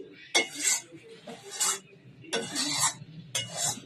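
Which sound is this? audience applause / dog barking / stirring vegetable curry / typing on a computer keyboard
stirring vegetable curry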